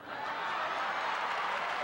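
Theater audience applauding at the Miss Universe 1996 beauty pageant, a steady wash of clapping from a large crowd that holds evenly at full strength after a quick start, with no voices over it.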